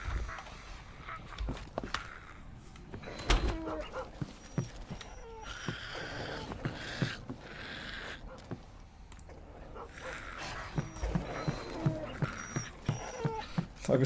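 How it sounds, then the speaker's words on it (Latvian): Dog whimpering in the survival video game DayZ, soft intermittent whines and yips amid footsteps and scattered game noise, fairly quiet and spread through the stretch. "Šitais suns."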